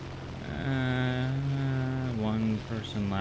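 A propeller plane in War Thunder drones along on a single engine, a steady humming buzz that holds its pitch, then dips and wavers near the end, with possible quiet talk underneath.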